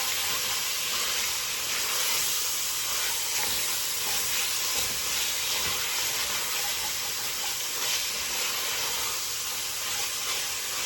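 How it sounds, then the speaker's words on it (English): Meat browning in a single pot for a creamy pasta dish, giving a steady, dense sizzle and hiss that holds evenly throughout, close and moderately loud, with no talking over it. "Now we're just going to let our meat brown for a little bit."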